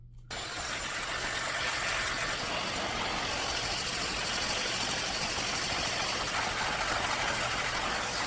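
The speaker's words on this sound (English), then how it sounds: "But any blow dryer will get your hair dry." An ionic blow dryer rough-dries thin hair with a loud, steady, close-up whoosh that switches on abruptly and runs without a break for about eight seconds.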